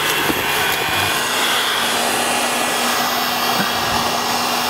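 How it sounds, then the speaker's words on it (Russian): Hair dryer heating sealing tape on a log house in winter, a loud, steady, continuous blowing whir that holds unchanged throughout, close to the listener, with no talking. "В зимних условиях обязательно нужно пользоваться феном и нагревать."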